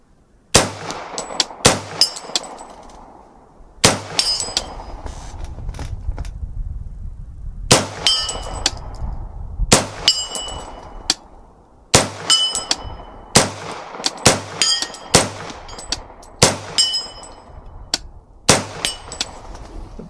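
A CMMG Banshee in .45 fires about a dozen spaced shots at steel targets 50 yards downrange, each sharp report followed by a bright metallic clang of the hit plate.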